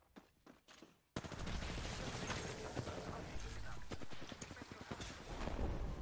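Quiet voices give way to dense, continuous bursts of gunfire in Apex Legends, loud and rapid with overlapping shots that keep going to the end.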